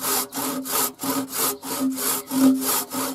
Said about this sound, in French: j'ai descendu ma scie tout en coupant.